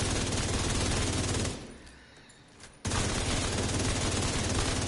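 Heavy automatic fire aimed at a target in the video game Striker pounds steadily and loudly, stops for just over a second, then bursts back in at full intensity.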